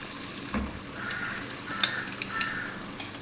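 Onions fried light golden, with garlic and ginger just added, sizzle and crackle in hot oil for a chana daal fry, a soft steady frying with a few brief stirring clinks and pops.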